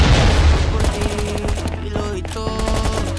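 Rapid, dense bursts of explosive booms and crackling blasts from a bombing raid in a survival game, loud and continuous, with layered impacts stacking over one another and a voice briefly heard underneath.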